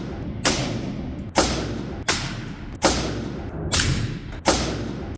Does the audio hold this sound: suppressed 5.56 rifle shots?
yes